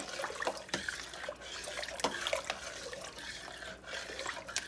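Long grain rice being stirred into a pot of chicken soup, a steady close liquid swishing and sloshing with soft splashes, no voices over it.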